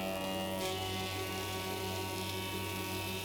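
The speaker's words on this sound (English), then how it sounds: "Then we plane all 4 sides on the 4-sider." A four-sided planer machining vinegar-treated timber for cottage windows in a joinery workshop, a loud constant electric hum and whirring roar, steady and close with no talk.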